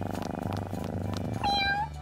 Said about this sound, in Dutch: Hier is een raszuiver poesje.